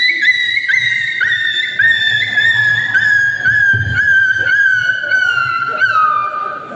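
A voice imitates a dog's long howl at a kirtan in Abhona: one sustained, wavering cry that slides slowly downward over several seconds. It is loud and close, with a low murmur of background noise beneath it.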